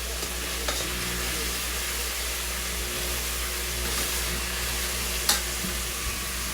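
Oxtails brown in oil inside a pressure cooker pot with a loud, dense, continuous sizzle, broken by a couple of brief clinks from turning the meat.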